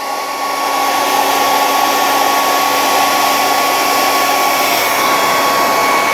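A heat gun blows steadily over clamped resin model kit parts for a 1/72 Sinanju build, a loud, close, continuous whooshing roar with a constant whine and no pauses.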